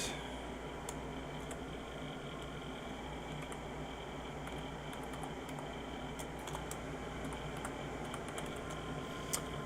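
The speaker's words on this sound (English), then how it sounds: "I'll type my name" Keys clatter steadily on a computer keyboard as a name is typed, a soft continuous patter over a constant fan-like hum, with one slightly louder tap near the end.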